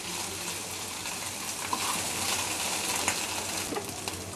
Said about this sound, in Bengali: 1/2 চা চামচ পরিমাণ জিরা বাটা দিয়ে এটাকে ভালোভাবে কষিয়ে নিই।